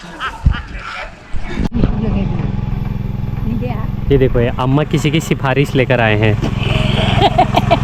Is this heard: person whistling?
no